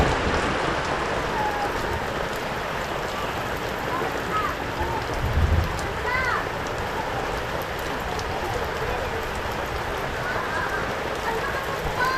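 Steady rain falls during an outdoor birthday gathering, a constant hiss of drops on surfaces that runs evenly throughout, with a few faint chirps and voices in the distance.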